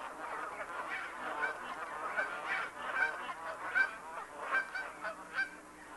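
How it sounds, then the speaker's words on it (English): Dusky Canada geese, a darker, lighter-weight subspecies, honk repeatedly in a wetland delta setting, a loose chorus of calls from several birds at moderate distance with irregular bursts throughout. "this subspecies appears to be identical to the more familiar and common Canada goose"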